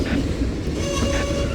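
A Union Pacific mixed freight train with CSX hoppers rolls past close by, a loud continuous rumble and rattle of wagons with a faint squeal above it.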